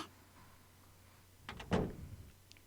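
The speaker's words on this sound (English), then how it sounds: "The door closed and I could hear her footsteps trail off into the distance." An interior door swings shut in a quiet room, giving one soft thud with a brief rattle and settling noises. It is followed by a faint tap and a near-silent hush.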